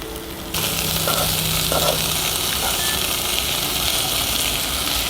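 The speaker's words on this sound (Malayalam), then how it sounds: "നന്നായിട്ട് അത് ഇളക്കി നമുക്ക് പൊരിച്ചെടുക്കാം" Sardine masala with a splash of tamarind frying in a pan, a steady close sizzle running throughout with a few faint stirring scrapes and no talking.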